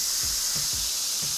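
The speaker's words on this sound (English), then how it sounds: "Now that's called fast venting." An Instant Pot pressure cooker fast-venting steam, a loud continuous hiss close by with a few faint low knocks underneath.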